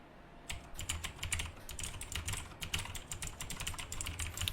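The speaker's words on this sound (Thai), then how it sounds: "ลองดูว่าเสียงเข้าคีย์บอร์ดดังขนาดไหน" Rapid, clicky keystrokes on a mechanical gaming keyboard, typed continuously at an even pace, close by and fairly crisp.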